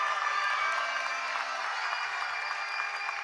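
A church congregation claps loudly at a sermon, a continuous close wash of applause with faint cheering mixed in, holding steady from start to end.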